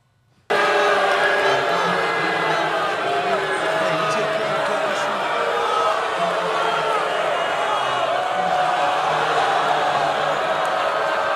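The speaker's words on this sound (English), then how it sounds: "Getting booed." A wrestling crowd boos a villain, a sustained, dense roar of many voices that starts abruptly and holds steady and loud throughout, recorded from within the audience.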